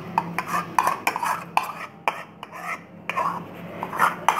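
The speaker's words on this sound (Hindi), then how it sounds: "ये दही को थोड़ा सा अच्छी तरह मैश कर लें, इसमें ये लम्स नहीं रहने चाहिए ना" Metal spoon scraping and clinking against a bowl while yogurt is mashed smooth for Karachi biryani, a run of close, repeated taps and scrapes with a steady background hum.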